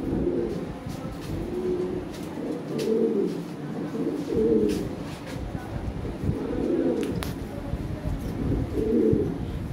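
Toy Lahori pigeons cooing in repeated soft, throaty phrases close by, with a steady murmur of background noise and occasional faint clicks and rustles.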